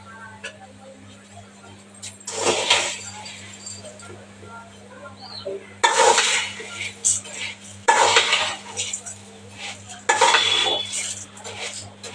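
Vermicelli frying in ghee in a pan, stirred with a utensil that makes bursts of scraping metal clinks over a steady low hum, with talk through the clip.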